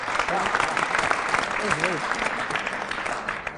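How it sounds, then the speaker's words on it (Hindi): An audience at a Hindi poetry recital (kavi sammelan) for the New Year claps steadily and moderately loudly, with a voice speaking over the applause. "आइए स्वागत कीजिए जोरदार तालियों के साथ"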